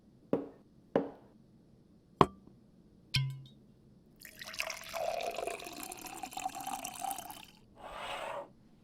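Cheap scotch is poured over ice into a glass in a quiet room: four sharp clinks of ice dropping in, then a steady liquid pour of about three seconds and a short final splash, close and fairly soft.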